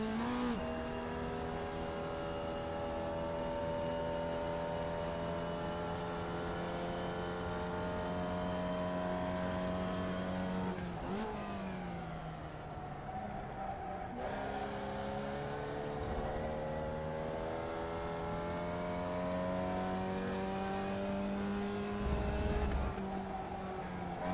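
A Formula Vee race car in iRacing laps Laguna Seca, its engine droning steadily and loudly throughout, rising in pitch through the gears, dropping briefly on a hard braking section, then revving back up, with no voices.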